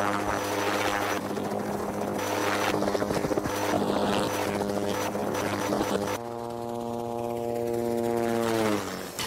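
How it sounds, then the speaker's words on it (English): An Army National Guard helicopter runs loud and close, its spinning rotor and engine making a steady droning hum that continues throughout, with the pitch dropping slightly near the end. "This is the machine I fly, a helicopter."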